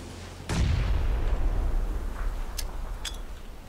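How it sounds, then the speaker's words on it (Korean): A grenade blast in a video game, a single loud close boom with a rumbling low tail that fades over a few seconds, followed by a couple of faint sharp clicks and pops. "이거 수류탄 소리다"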